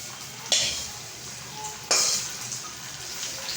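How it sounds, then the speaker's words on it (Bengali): Oil being added to bottle gourd cooking in a pan, with two sharp bursts of sizzle around a low steady background of cooking noise, the second burst louder and lingering longer. "এখন হচ্ছে আমার লাউ ভিতরে তেল বাগার দিচ্ছি।"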